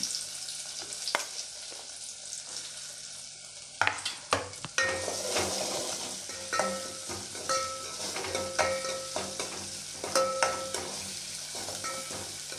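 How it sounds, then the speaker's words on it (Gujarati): Chopped onions fry in a pan with asafoetida, giving a continuous close sizzle broken by repeated clinks and scrapes of a spoon stirring against the metal. "ડુંગળીને થોડીક વાર ચડવા દેશું."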